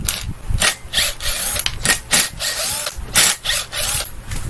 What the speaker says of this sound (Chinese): 那我们就拿一个新型的 T20 的来拆就可以了，它就4个螺丝而已